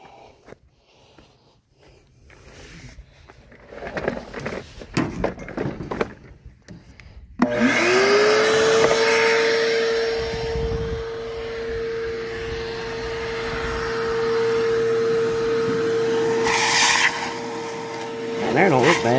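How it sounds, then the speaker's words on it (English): A vacuum cleaner switches on partway through and runs loudly and continuously, whining steadily as it sucks up debris from a 1968 Ford Mustang left sitting for 30 years, after some earlier rustling and handling noises. "Let's suck it out with vacuum cleaner."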